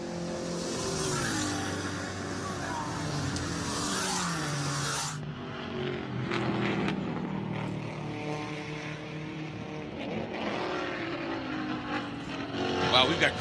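GT race cars, a Maserati among them, accelerate uphill at Canadian Tire Motorsport Park, their engines rising in pitch through the gears from a distance, with a commentator talking over the noise.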